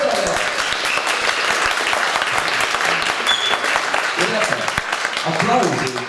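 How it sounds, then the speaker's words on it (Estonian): Full audience applause at a women's choir anniversary concert, dense and sustained for several seconds, with a few voices rising faintly through the clapping. "Aplaus!"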